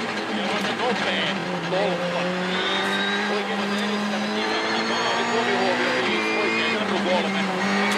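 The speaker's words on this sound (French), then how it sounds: "Elle est franchie cette ligne d'arrivée pour Mikko Hirvonen" A rally car races through a tarmac special stage of the Rallye de France Alsace 2013, its engine revving and shifting continuously at moderate distance under ongoing commentary.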